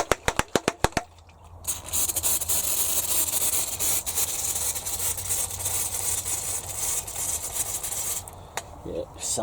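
A hand spray bottle mists water over seedling trays, with a few sharp clicks of the trigger at the start followed by a long, steady hiss of spray close by.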